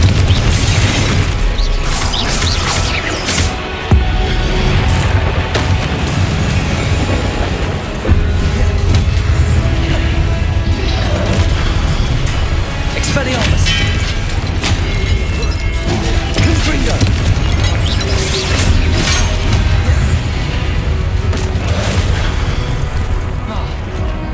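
Booming spell blasts from the Confringo fire curse in the Hogwarts Legacy video game, dense and loud over a continuous bed of battle effects and rumbling game music, with repeated crashing bursts throughout.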